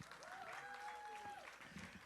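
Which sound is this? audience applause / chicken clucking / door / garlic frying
audience applause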